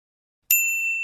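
A doorbell in a home gives a single bright ding with a sharp onset and a sustained ringing tone that slowly fades, heard alone after silence.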